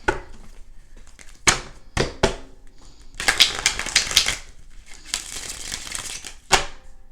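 Tarot deck being shuffled close up, short riffling bursts and taps coming in uneven clusters with quiet pauses between.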